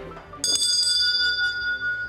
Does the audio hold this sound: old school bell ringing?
yes